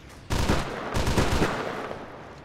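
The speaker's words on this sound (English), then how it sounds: "How about you kill the thing that's shooting at us instead of us?" Gunfire in the ARMA 2 video game, a sudden loud volley of rapid shots that starts sharply and then continues in overlapping bursts before tapering off, close and with no talk over it.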